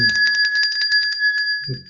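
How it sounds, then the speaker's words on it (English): A bright, electronic-sounding bell rings repeatedly in quick succession, loud and close, to mark a correct trivia answer on a weather show, with brief talk starting near the end. "Ring the bell for yourself, Joe."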